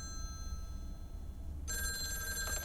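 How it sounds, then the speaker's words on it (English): A telephone rings at home, its bright electronic ringtone starting partway through after a quiet background hum. The tone is clear and fairly loud, with no talking. "Phone is ringing."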